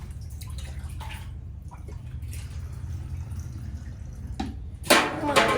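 Faint drips and trickles over a low hum, then rainwater leaking through a roof suddenly pours and splashes close by for the last moment.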